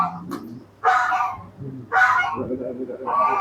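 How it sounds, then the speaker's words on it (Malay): A goose honks in loud repeated calls, three or four nasal blasts spaced about a second apart, with people talking in the background. "Nampak tak? Tu angsa tu."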